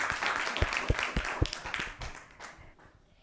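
A small group of children and adults claps for a boy after his answer in a kids' quiz, a brief burst of loud, uneven handclaps that quickly thins out and fades away.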